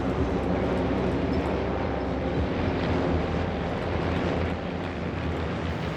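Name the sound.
mass arrival of Van's RV kit planes at Oshkosh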